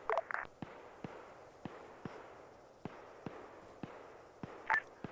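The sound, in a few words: gunshots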